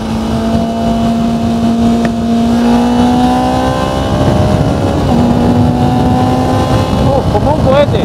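A Haojue XCR300 motorcycle engine revs and accelerates hard through rising gears, its loud droning pitch sweeping upward, while someone talks over it.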